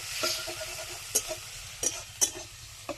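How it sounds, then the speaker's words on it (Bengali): Tomato and green chilli stir-fry in mustard oil with ginger and green chilli paste, a soft steady sizzle broken by a few sharp spatula scrapes against the pan, close and alone. "একটু নাড়াচাড়া করে ভাজবো"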